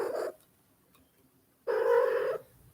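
A cat gives two low, rough vocal bursts with a quiet gap between them, close to the microphone. The second burst is longer, and no one speaks.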